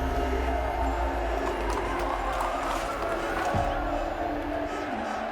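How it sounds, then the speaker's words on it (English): Real Madrid fans cheering at the Santiago Bernabéu stadium, a steady, loud crowd roar filling the space without a break, with a dense wash of many voices and no clear individual words. "it was worth it to see all our people cheering"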